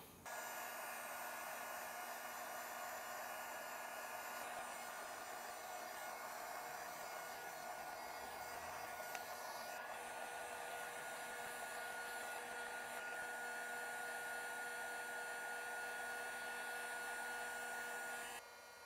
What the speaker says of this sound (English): Next I'll heat shrink that down on both sides.